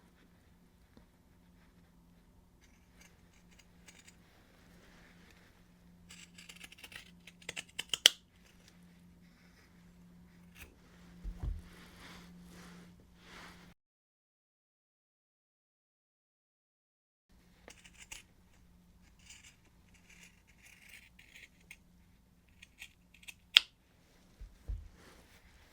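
Scissors snip through shirt collar fabric in scattered small clicks and crisp cuts, quiet and close, with a low hum underneath and a silent gap in the middle.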